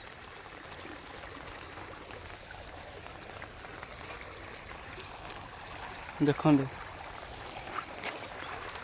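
Heavy water rushes past in a steady, close broadband roar that runs unbroken throughout, with a short spoken word and a few splashy bursts rising over it partway through.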